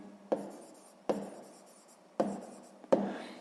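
Handwriting during a sixth-grade maths exercise: a close, dry scratching of strokes, with four sharp taps at regular intervals as the writing tool meets the surface. No voices.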